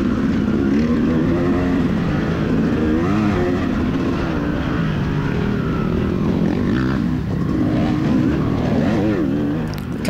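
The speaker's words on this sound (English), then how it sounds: "Justin's Kawasaki, feels pretty, or sounds pretty mean." Kawasaki motocross bike racing at the Loretta Lynn's amateur national, its engine a loud continuous roar that rises and falls as the rider shifts and revs among other bikes on the track.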